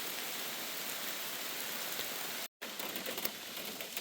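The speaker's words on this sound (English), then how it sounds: "it's still raining pretty hard" Heavy rain pours steadily in a dense, loud hiss of drops drumming on surfaces, continuous apart from a brief cut near the middle, with no voices.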